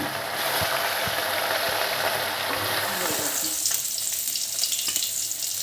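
Rohu fish pieces frying in hot oil, a loud, dense, steady sizzle that stays close and continuous, easing slightly toward the end, with no talking.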